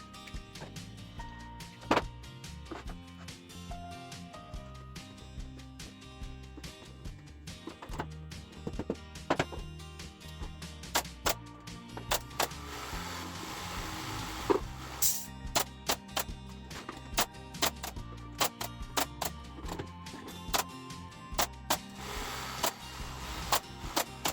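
A pin nailer fires into shiplap boards on a barn hay loft floor, giving many sharp, close clicks and snaps, some in quick bursts, over a low background.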